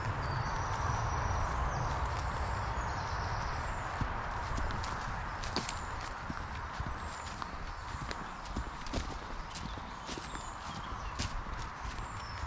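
Horses move near a footpath outdoors, their hooves clip-clopping in a continuous irregular patter over steady wind or ambient noise, moderately close.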